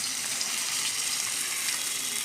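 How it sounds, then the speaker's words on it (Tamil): River fish frying in a pan gives a continuous, dense, close hiss of sizzling oil with no breaks and no talking. "மீன் வெந்துக்கிட்டு இருக்கு."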